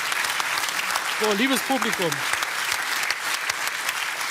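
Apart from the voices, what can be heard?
talk show studio audience applauding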